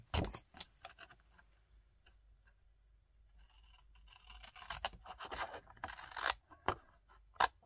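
Paper being cut with scissors while making a scrapbooking jewellery box, a series of close, crisp snips and short scraping strokes at an uneven pace, with no talking.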